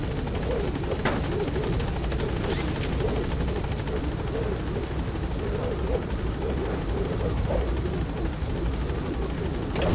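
The support helicopter in Metal Gear Solid V climbs away from the landing zone with a dense, continuous rotor and turbine roar that holds steady and fills the whole stretch, with no talking.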